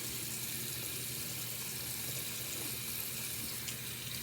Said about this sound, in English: we're gonna put a lot of cold water and a little bit of hot water